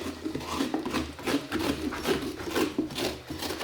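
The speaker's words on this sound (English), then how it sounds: "It really only scrapes on the edges. It doesn't scrape the middle section that much." Pumpkin flesh being scraped out from the inside with a scraper tool, a steady run of close rasping strokes repeating about every half second with no voices.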